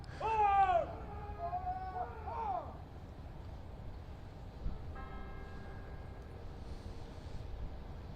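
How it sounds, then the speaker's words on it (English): Church bells toll at St. John's Church in Syracuse during a police officer's funeral, heard faintly and at a distance through steady outdoor background noise, after a brief high wailing sound at the start. "The bells tolling of St. John's Church."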